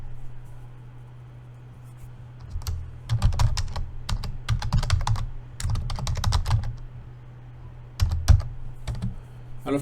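Someone types on a computer keyboard in uneven bursts of close clicking keystrokes, with short pauses between the runs over a steady low background hum.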